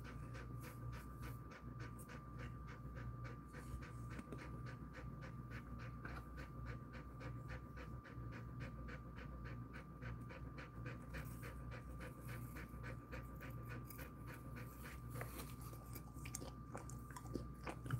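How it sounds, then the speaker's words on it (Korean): A Jindo dog pants steadily and close, chewing and biting as it scrapes the red flesh off a watermelon rind, with faint crunches under the continuous breathing throughout. "하얀 살만 남기고 빨간 부분은 싹싹싹싹 다 긁어 먹어요."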